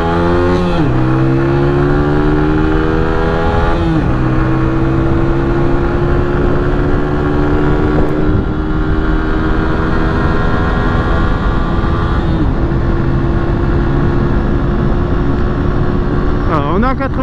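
Orcal Astor 125 scooter from 2016 accelerating hard on the road, its engine note rising in steps through repeated climbs in pitch, loud and close with strong wind rush throughout.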